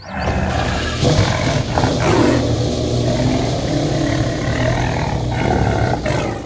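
Engine of a McLaren F1 LM in the Roblox game Realistic Car Driving, a loud sustained roar that swells and revs continuously for several seconds, close and dominant with no voices.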